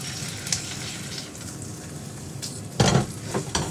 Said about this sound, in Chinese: 青魚呢，我覺得它的邊不夠窿，我想煎窿一點，現在已經煎到金黃色